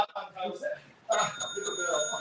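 A boxing bell clangs at the end of a round during a fight broadcast, giving a bright, ringing metallic tone that sustains after the strike, while excited commentators talk loudly over it.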